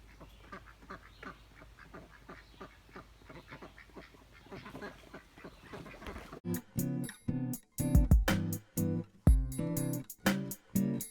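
Ducks quack beside their backyard pool on a hot day, first soft, rapid chatter at a distance, then loud, close, repeated honking quacks in an uneven burst.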